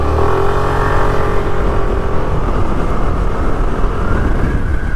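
A Suzuki Avenis 125 scooter accelerating, its engine note climbing steadily over continuous wind and road roar, recorded close and loud while riding, with no speech.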